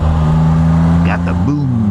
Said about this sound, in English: the way it sounds when you roll off. Got that nice deep boom.